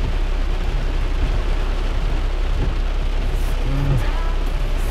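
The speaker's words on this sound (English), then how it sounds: "The rain got worse." Steady rain falls at a trailhead parking spot in Oregon, a dense constant hiss of drops on surfaces with low rumbling underneath, no talk.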